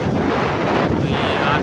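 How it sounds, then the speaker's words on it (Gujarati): Strong wind blows during heavy monsoon rain over farm fields in Gujarat, a loud, continuous roaring buffet that rises and falls in gusts. "અને ફૂલે ફૂલ પવન છે"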